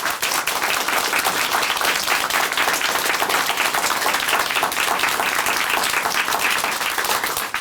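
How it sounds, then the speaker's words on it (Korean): An audience at a Christian testimony program at Chuncheon Hanmaeum Church breaks into loud, sustained applause, dense and even throughout before tapering slightly at the very end. "박수로 함께 응원해 드리겠습니다."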